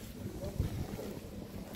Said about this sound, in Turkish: Bir de rüzgarlıydı hava çok.